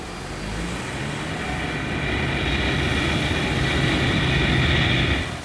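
A passenger airplane comes in to land, its engines making a broad roar that swells steadily for several seconds before dropping off at the end, heard up close with no talk over it.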